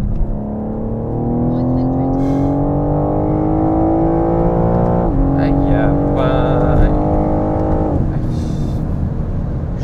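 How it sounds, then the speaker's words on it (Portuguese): A BMW M4 Competition (G82), a rear-wheel-drive coupe, accelerates hard in close, loud cabin sound, its engine note climbing steadily through two upshifts while someone talks excitedly over it. "Parece que está alguma coisa a empurrar o carro lá atrás, pá!"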